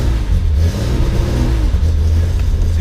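A home-built Datsun 240Z engine idles steadily and close, a continuous low rumble with slight rises in revs and no talk over it.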